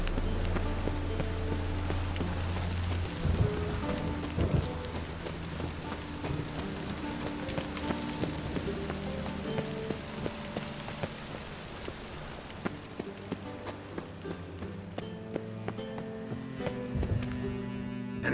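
Steady rain falling on surfaces in The Witcher 3, a constant hiss of drops alongside horse hooves clip-clopping and a low rumble, with a musical score droning underneath throughout.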